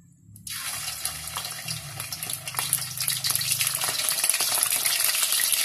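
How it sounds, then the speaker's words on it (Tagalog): Chicken adobo pieces hit hot oil in a pan over medium heat, bursting into a loud, steady crackling sizzle that keeps building after a quiet start. "prito na natin"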